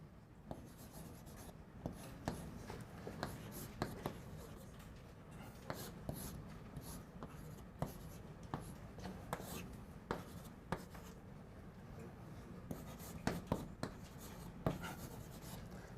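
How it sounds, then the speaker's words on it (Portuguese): Chalk or marker writing on a board during a calculus lecture gives faint, scratchy strokes and soft taps in irregular bursts over a low room background, with a voice murmuring quietly at times. "eu vou simplesmente escrever assim"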